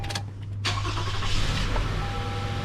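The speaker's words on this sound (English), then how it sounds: "So I'm going to start up the vehicle." A 2018 Toyota Sienna engine cranks and catches after a brief pause, then settles into a steady, close idle hum that continues to the end, with no talking.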